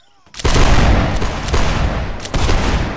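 A line of infantry in Mount and Blade Warband fires a musket volley, a loud sustained crackle of overlapping shots that breaks out suddenly after near silence, with further bursts rolling in over the next few seconds.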